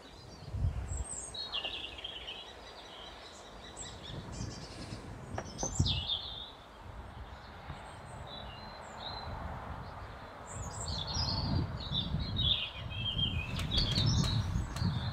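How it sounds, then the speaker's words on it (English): Birds sing on farmland, scattered chirps and trills from several birds at a moderate distance over a steady outdoor background, with no talking. "I was just thinking how beautiful the bird song is"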